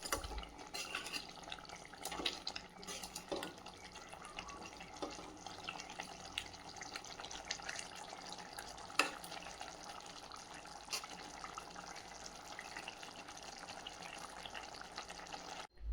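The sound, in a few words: stirring egg gravy curry in the pan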